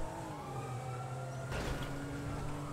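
A police siren wails through the streets of Grand Theft Auto V during a chase, its rising and falling tones carrying over steady traffic and engine noise, with a louder burst midway.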